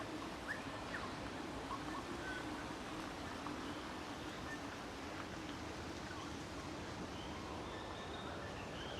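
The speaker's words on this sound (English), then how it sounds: "they've actually tucked speakers into the garden areas that play recorded bird songs" Recorded bird songs played from speakers tucked into garden areas of an outdoor urban spot, faint chirps and coos over a steady wash of city background noise.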